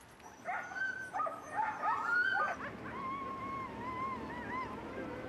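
A pack of sled dogs in a Greenland village whimpers, yips and howls in overlapping, wavering cries, some close and some farther off, with the howling stretching into long rising and falling tones.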